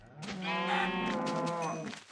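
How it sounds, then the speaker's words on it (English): A single Minecraft cow lets out a close, clear moo with a drawn-out, harmonic tone lasting about two seconds, alone against quiet. "Here's some cows, this is good."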